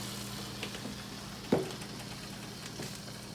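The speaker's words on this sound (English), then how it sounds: "we're gonna let that just start to cook and simmer and then let it, kind of cook on the bottom" Beaten egg poured over spinach cooking in a pan, a soft continuous sizzle with a faint bubbling hiss, briefly punctuated by a single light knock, steady and close with no talking.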